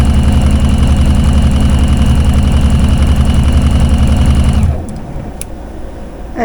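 A sewing machine stitches romper fabric with a loud, steady, close mechanical whir that runs unbroken for several seconds, then cuts off abruptly, leaving a quiet room with a few faint clicks.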